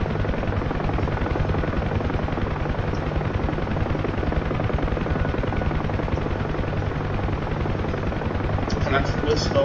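A Huey helicopter in flight fills the scene with a loud, constant rotor thump and engine roar, heard from inside as a dense, unbroken drone.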